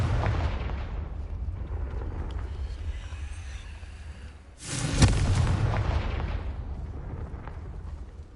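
A Confringo spell explosion in Hogwarts Legacy: a low rumbling build-up, then a loud sudden blast that fades into a long rolling rumble.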